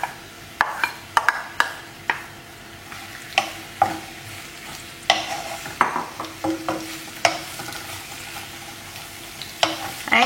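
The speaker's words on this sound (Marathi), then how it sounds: "आमचें तेल गरम जालें न्हू आमी कांदे घालया ते कातरून दवरलेले" Chopped onions frying in about three tablespoons of hot oil for a Goan clam curry, a steady sizzle under repeated sharp scraping and clacking stirs spread across the clip, with no talk.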